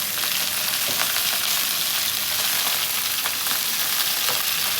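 Spices sizzling steadily in hot oil with a little water, turmeric among them, a continuous loud hiss with faint crackles throughout, close up and without talk.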